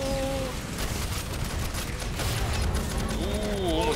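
Rapid, dense gunfire rattles continuously in the sci-fi shooter game Aliens Fireteam Elite, loud and close, with players talking over it.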